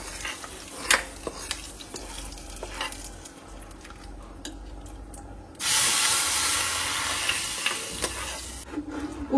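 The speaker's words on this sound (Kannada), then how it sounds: "ಇವಾಗ ಒಗ್ಗರಣೆ ಎಲ್ಲ ಟ್ರಾನ್ಸ್ಫರ್ ಮಾಡ್ತಾ ಇದ್ದೀನಿ" Hot oggarane tempering is poured into rasam (saaru), bursting into a loud sustained sizzle and hiss after some spoon clinks and stirring, then fading slightly.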